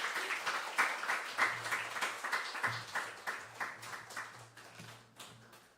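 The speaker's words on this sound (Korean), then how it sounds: "우리 이용규 선교사님 나오실 때 큰 박수로 우리 환영하고 따뜻하게 우리 맞아드렸으면 좋겠습니다" A church congregation gives a warm round of applause welcoming a missionary to the pulpit, distinct hand claps at a moderate, fairly quiet level, slowly thinning toward the end.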